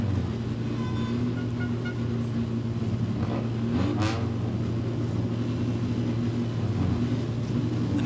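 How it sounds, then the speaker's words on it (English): Junior sedan race car engines at Darwin Speedway idle and rumble together in a steady low drone, with a brief rev near the middle, for the National Junior Sedan final. "Engines are being started."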